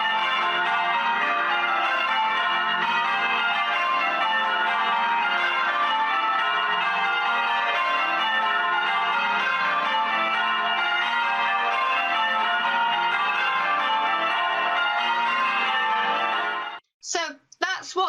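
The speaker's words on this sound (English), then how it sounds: "So that's what the bells sound like at the moment" Church bells of Kenwyn ring continuously and fairly loudly for about seventeen seconds in a dense, layered peal, then cut off abruptly into a few brief scraps of sound.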